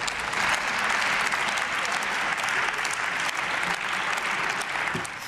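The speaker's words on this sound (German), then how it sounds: "Viel Applaus von der Unionsfraktion" Sustained applause from a parliamentary faction in the Bundestag chamber, a dense, even roar of many hands clapping that continues without a break.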